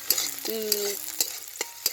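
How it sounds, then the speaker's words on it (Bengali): Chopped onion, garlic and green chilli frying in a pan, giving a quiet sizzle with quick, regular taps of a stirring spatula and a brief metallic ring. "এইটা দেখো ভাজা হবে পেঁয়াজ রসুন আর কাঁচা লঙ্কা দিয়ে"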